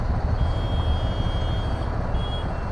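Heavy road traffic on a busy highway toward JNPT port near Alibag, Raigad, with trucks rumbling steadily close by and a reversing beep or horn tone sounding intermittently above the constant low engine drone.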